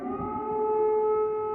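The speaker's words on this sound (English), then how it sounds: "Air raid sirens have been sounding throughout Kiev, where there have been loud explosions." Air raid sirens wailing across Kyiv during wartime shelling, a steady sustained tone with layered harmonics held at an even, moderate level throughout.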